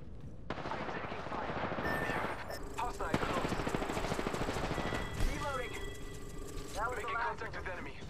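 Rapid bursts of R-301 assault rifle fire crackle in an Apex Legends match, repeated volleys mixed with game effects and a voice talking over the action.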